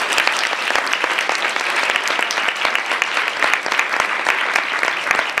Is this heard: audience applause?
yes